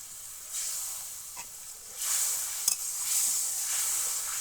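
Potatoes fry in oil in a pan with a soft, steady sizzle that swells louder midway, along with a couple of faint scraping stirs. Nobody speaks.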